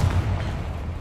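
A Confringo spell blast in Hogwarts Legacy, a single deep, booming burst that hits hard at the start and then rolls off into a low, rumbling decay.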